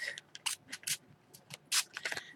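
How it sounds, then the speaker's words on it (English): Dylusions spray ink squirted into one side of a bag, heard as a quick series of short, sharp hissing spritzes in uneven rhythm, close and moderately loud, with no talking. "I'm going to squirt into one side of my bag"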